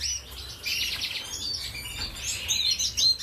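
Canaries and goldfinches in indoor flight cages keep up steady, bright chirps and twittering trills, several birds at once against a soft room hiss.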